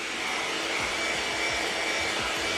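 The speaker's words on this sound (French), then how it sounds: "donc on sèche bien au sèche-cheveux" A hair dryer blows steadily on a freshly painted ABS RC car body with a constant airy roar and faint whine, running alone without any talking.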